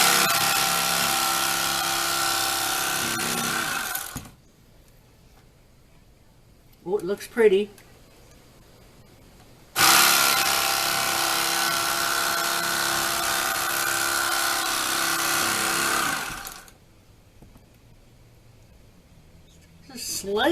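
Electric knife slicing a loaf of sourdough cinnamon raisin bread: two loud, steady buzzing runs of about four and seven seconds, separated by a quiet gap with brief rustling, and a short spoken remark in between.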